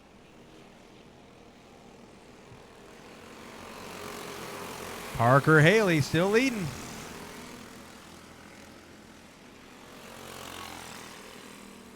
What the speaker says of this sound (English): These kids are on these plated clone engines, but they are still whining them for everything they got.